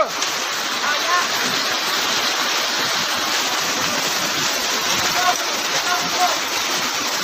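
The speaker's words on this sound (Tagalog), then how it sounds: "Wala na, hanggang bubong na yung tubig." Floodwater rushing through a flooded area in the Bicol region during a severe flood, a steady broadband roar with splashing that runs unbroken throughout, loud and close, with faint voices now and then.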